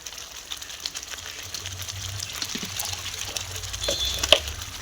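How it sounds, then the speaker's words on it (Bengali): A curry mixture boils in a pan with a low, steady bubbling and faint sizzle, quiet and continuous with no voices. "পুরো ফুটছে।"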